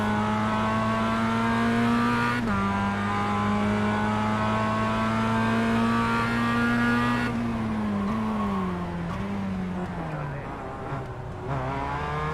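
Mazda MX-5 Cup race car in iRacing holds a steady, loud engine drone through a drag race toward a corner, then the pitch drops and wavers as it brakes and downshifts near the end. Other cars run close by.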